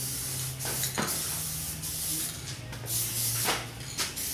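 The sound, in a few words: aerosol spray can applying adhesion promoter coats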